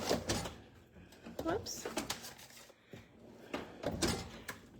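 A storage drawer in a craft studio holding power tools and glue slides open and shut with a few close wooden thumps and rattles, heard under a person talking.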